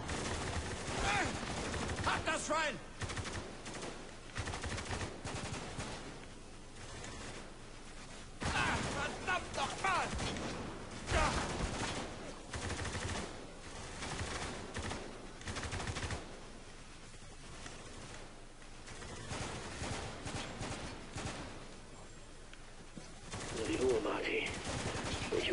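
Sustained bursts of automatic gunfire and single shots in a firefight in the video game Spec Ops: The Line, loud and near, rattling on for the whole stretch with game voices and effects mixed in.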